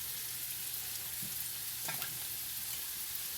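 Onions frying in a pan, a steady close sizzle and crackle that runs without a break, with a faint stir or scrape of a utensil partway through.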